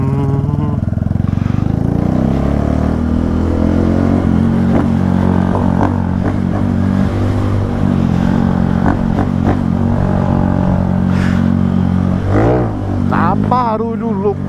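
A Honda Pop 110 motorcycle with no air filter and an aftermarket exhaust revs loudly and steadily up close, its engine note rising and falling with a raspy edge. Excited voices talk over it now and then.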